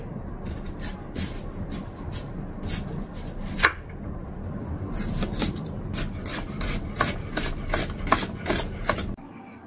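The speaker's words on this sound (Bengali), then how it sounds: "এইভাবে স্লাইস করে নেব।" A knife slices carrots, chillies and onions on a board in a rapid series of crisp, close cuts, first in an irregular burst and then in a steadier rhythm, ending abruptly, with no speech.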